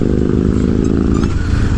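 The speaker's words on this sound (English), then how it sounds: "People think that we put exhaust for unnecessary reasons" An adventure 390 motorcycle engine idles loudly and steadily up close, a deep throbbing exhaust rumble with a slight change in tone near the end.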